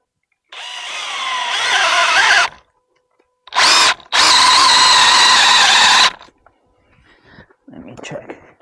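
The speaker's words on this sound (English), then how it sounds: "I'm gonna be using a, what is this? Hitachi 3/4 drill bit" A power drill bores with a Hitachi 3/4 inch bit while building a ranch entrance, running in two loud sustained bursts with a brief blip between, then quieter rustling and handling noises.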